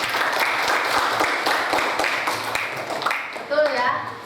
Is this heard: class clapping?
yes